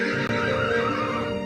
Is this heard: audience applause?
no